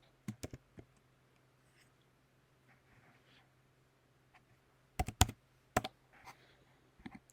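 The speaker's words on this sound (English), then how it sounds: "So for this example, we will type in a flight number" A flight number is typed on a computer keyboard in a quiet room. A few clustered keystrokes at the start are followed by a pause, then another burst of sharp taps, all near and faint, with no speech.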